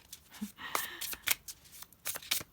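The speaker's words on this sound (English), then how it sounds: "You guys can feel free to skip through the shuffling if you'd like." Tarot cards being shuffled by hand, a run of crisp riffling and slapping bursts with brief pauses between them, close and fairly quiet, no talking.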